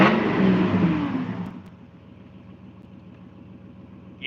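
A car engine with its muffler cut off roars loudly up close for about a second and a half, then drops to a low, rough idle.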